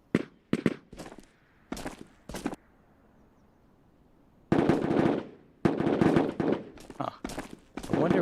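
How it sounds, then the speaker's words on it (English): Gunshots in the VR shooter Ghosts of Tabor: a few sharp single shots echoing, a pause, then rapid bursts of loud, close firing with clattering reports, heard alone without talk. "Those shots don't sound like what they were shooting at"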